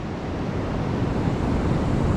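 Continuous broadband wash of Indian Ocean surf along South Africa's Garden Route, steady and moderately loud with wind buffeting mixed in, no voices.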